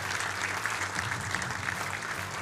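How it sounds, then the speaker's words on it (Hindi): A studio audience at a televised Hindi political debate claps steadily for a couple of seconds, a soft and fairly distant wash of applause. "तालियां बजाइए उनके लिए।"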